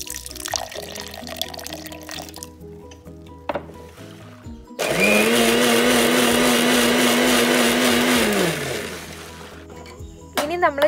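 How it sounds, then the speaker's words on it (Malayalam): Mixer grinder whirring loudly as it grinds boiled jackfruit seeds with milk and water into a fine paste, a steady motor drone of about four seconds in the middle, with quieter kitchen sounds before and after. "ഇനി അത് നമുക്ക് നല്ലൊരു ഫൈൻ പേസ്റ്റാക്കി അരച്ചെടുക്കാം."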